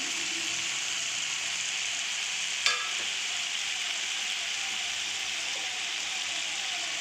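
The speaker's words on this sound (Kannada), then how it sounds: "ಇವಾಗ 1 ಕಪ್ಪು ನುಗ್ಗೆ ಸೊಪ್ಪು ಹಾಕ್ತಾ ಇದ್ದೀನಿ." Drumstick leaves tossed into a pan of cooking tomato fry with a steady, close hiss, with one brief sharp clatter partway through.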